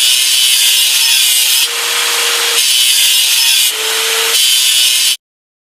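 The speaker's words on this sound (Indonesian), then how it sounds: "Ayo singkirkan karat mesinnya." Scrubbing rust off an engine in a children's educational video game, a loud, harsh abrasive rubbing in the foreground that shifts tone in alternating passes and cuts off abruptly at the end.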